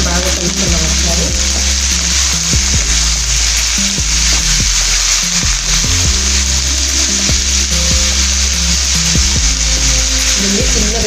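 Brinjal fries with salt in a pan, a loud continuous sizzle broken by repeated spoon-on-pan scrapes and knocks at an uneven rhythm, up close, with no talk.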